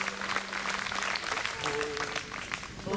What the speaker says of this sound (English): they clapped before the song started